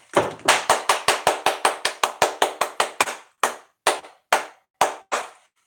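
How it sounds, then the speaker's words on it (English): Hands clap alone and close by, first in a quick, steady run of about fifteen claps, then slowing to a few spaced claps before stopping. "What's with all the damn clapping?"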